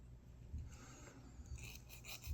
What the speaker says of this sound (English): we're just going to file that off, or sand it off